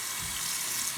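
A rock rinsed under running tap water to wash off dirt, a brief, steady close hiss of flowing water with no talk.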